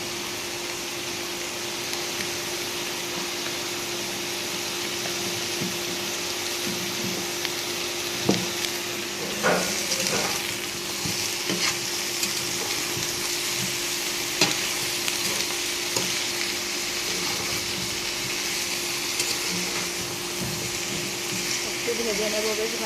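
Whole bay leaves, cardamom and cinnamon fry in hot oil with a steady, moderate sizzle and occasional stirring clatter, while someone talks over it throughout.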